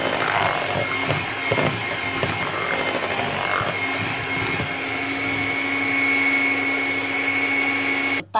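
An electric mixer whirs steadily through cupcake batter, a loud continuous motor drone with a faint rising whine that cuts off abruptly at the end.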